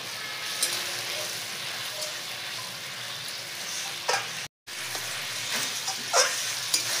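Spice paste for a katla fish curry with green banana sizzles steadily in a pan, with a continuous close frying hiss and occasional scraping stirs, briefly cut out midway.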